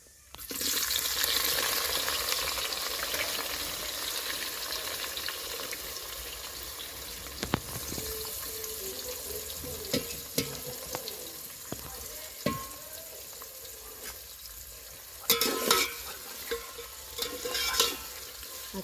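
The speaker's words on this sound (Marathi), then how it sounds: "खडा मसाला भाजला, आता कांदा टाकते." Onions fry with whole spices in a pan, giving a loud sizzle at first that settles into a steady hiss, while a spoon stirs and clinks against the pan at intervals.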